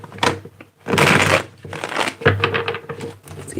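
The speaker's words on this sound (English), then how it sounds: "let me get 3 more shuffles here" Tarot cards shuffled in bursts of riffling and crinkling, close and fairly loud, with pauses between shuffles and no talk.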